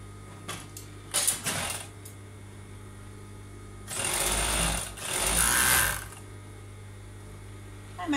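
Sewing machine stitching the shoulder seams of a knit sweater, with the front and back pieces placed face to face, running in two sustained bursts after a few short taps, fairly loud and without talk.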